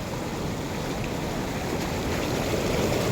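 Strong water rushes through a dam's openings in a loud, dense, unbroken roar heard close up, with no pauses.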